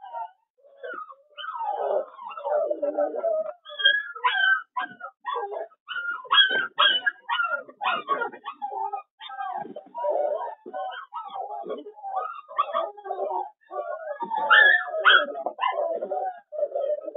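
Puppies in a kennel yip, whimper and bark in quick, overlapping bursts that run steadily throughout, close by and fairly loud.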